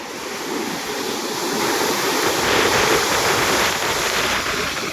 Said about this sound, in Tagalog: naglalaki ang alon na yan